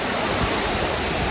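Waterfall at Minas Viejas, Mexico, falling into turquoise water: a dense, steady broadband rush of falling water, loud and close, unbroken throughout.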